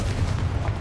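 A Confringo fire-spell blast in Hogwarts Legacy lands as a short, rumbling boom with a low, rolling tail, moderately quiet and heard alone.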